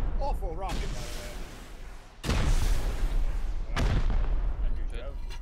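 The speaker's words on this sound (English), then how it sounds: "One more rocket on there, that should do it" Rockets fired and exploding in the Rust survival game, with three heavy blasts spaced about a second and a half apart, each with a long rumbling tail, plus some brief chirping tones at the start.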